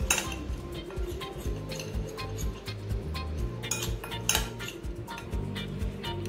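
Dry rice flour, chilli powder, asafoetida and salt mixed in a bowl for cabbage pakora, with a steady run of clinks and scrapes against the bowl, close and continuous.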